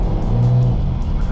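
A turbocharged 3800 Buick Regal GSX drives along the road with a loud, close, steady engine rumble and road noise that swells briefly in the middle.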